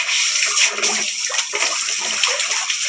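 Water sprayed like a shower onto a fish farm pond to stir up bubbles, a loud steady hissing splash with gurgling, close and continuous, no talk.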